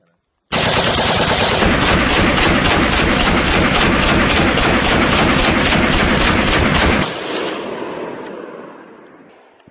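Rapid automatic fire from a firearm hammers out as one loud, continuous burst lasting about six seconds, then cuts off and leaves a fading echo.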